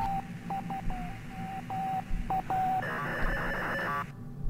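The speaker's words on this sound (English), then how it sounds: "Oh god, I've got modem noises now." Dial-up modem noises in the video game Adrift: a series of short, loud electronic beeps and tones, followed by a dense burst of screeching handshake noise that cuts off abruptly.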